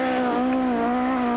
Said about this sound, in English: Continuous bellowing roar from the Escort engine as the power goes down